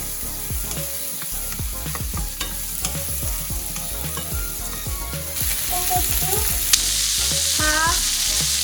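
Cucumber stir-fries in a hot pan, a steady loud sizzle broken by rhythmic scraping strokes of the utensil repeating about twice a second, close up and without talk.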